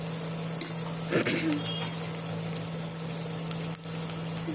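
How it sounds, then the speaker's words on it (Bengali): Bay leaves, panch phoron and ginger garlic paste frying in a pan for ghugni, a steady close sizzle throughout with a brief stirring scrape near the middle. "দুটো তেজপাতা আর পাঁচ ফোড়ন দিয়ে আবারও ভালো করে ফ্রাই করে নিতে হবে"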